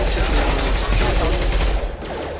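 Sustained, rapid gunfire rattles loudly and densely in a Mass Effect 2 firefight, then thins out near the end.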